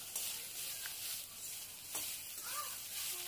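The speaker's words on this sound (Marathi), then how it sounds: "आता आपण आलं आणि लसूण पण घालून घेऊया, परतून घेऊया मस्तपैकी" Ginger and garlic sautéing in a little oil for a soybean curry, giving a soft steady sizzle with faint stirring scrapes, quiet and close.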